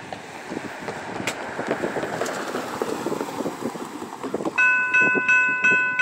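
A BNSF freight train rolls past at close range, a steady broad rumble of wheels and cars that grows louder near the end, when a sustained multi-tone horn chord sounds over it.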